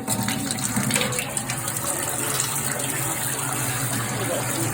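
Water running hard from a turned-on tap or hose at high pressure, a steady close gushing rush with no break, with speech faintly in the background.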